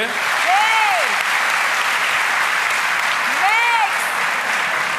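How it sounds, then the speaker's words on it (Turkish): A studio or stage audience applauding steadily throughout, a dense, even wash of clapping at full level, with a couple of brief voiced cheers or whoops rising over it. "Alkışlıyoruz hey"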